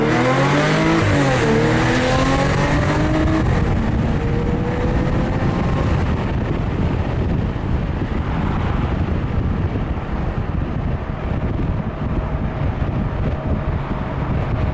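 An Audi S4's warm engine revs hard and climbs through the gears on a straightaway, with its pitch rising and dropping at each shift under steady, loud wind and road noise.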